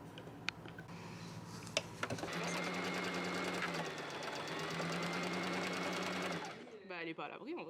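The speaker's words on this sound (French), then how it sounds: "Et on va venir coudre à 1 cm ces deux parties." A sewing machine runs steadily for about four seconds, stitching two pieces of a shirt dress together with a 1 cm seam allowance, after a few handling clicks and before a brief pause with a voice at the end.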